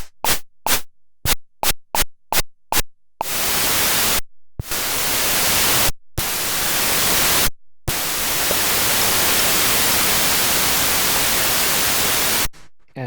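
Pure noise from a FLAME FIRE Eurorack drum synth, first a rapid series of short hissing bursts, then longer sustained blasts of harsh static broken by brief gaps, ending with a few quick bursts.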